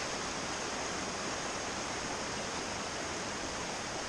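A mountain creek rushes near a footbridge on a trail in the Great Smoky Mountains, a dense, even hiss of flowing water that stays close and constant throughout.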